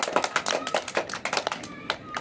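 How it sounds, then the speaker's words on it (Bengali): Children clap in quick, uneven bursts, close and lively, in a classroom quiz game. Voices mix in throughout. "গুড, হাততালি দাও।"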